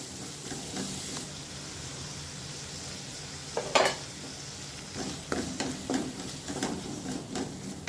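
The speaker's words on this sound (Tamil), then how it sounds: "இப்போ கட் பண்ணி வச்சுருக்க தக்காளி, அடுத்து கேப்சிகம், துருவுன கேரட், இது எல்லாத்தையும் சேர்த்து லைட்டாக வதக்கிக்கலாம்" Tomato, capsicum and grated carrot sautéing in a pan for masala pav, a steady close hiss of frying with a burst of sizzle midway and repeated scraping stirs toward the end.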